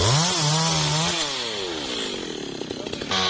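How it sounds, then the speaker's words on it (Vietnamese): A chainsaw cuts into a large melaleuca tree, revving up with a whining rise, then labouring through the wood as its pitch sinks, before picking up again at the end. "Chú mình bắt đầu cưa cây chầm út to đó luôn nha các bạn."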